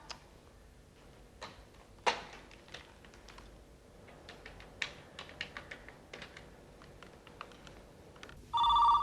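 A phone rings briefly near the end, a bright electronic trill cutting in after a stretch of scattered clicks and light tapping in a quiet room.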